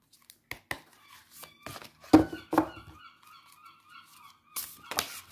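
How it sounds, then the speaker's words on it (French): Raucous seagull calls ring out in several sharp bursts among scattered clicks and crinkling handling noises of cards close by. "Vous entendez peut-être les mouettes, c'est de mon côté"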